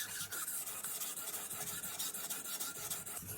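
A Senzo Santoku kitchen knife is stroked across a 2000 grit whetstone in a rhythmic series of close, gritty rasping scrapes, about a dozen back-and-forth passes with no talking.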